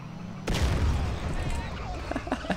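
A grenade blast in GTA San Andreas: a sudden loud boom bursts in about half a second in and rumbles on, followed by a few sharp gunshot-like cracks near the end.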